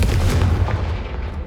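A Confringo spell blast in a Harry Potter video game: a loud, dense burst of booming, crackling energy that holds steady for about a second and a half before easing slightly, with no voices over it.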